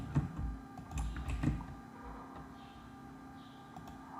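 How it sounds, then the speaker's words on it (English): Typing a prompt on a computer keyboard: a short cluster of soft keystrokes in the first second and a half, then quiet room hum, faint and close. "You just type in the prompt"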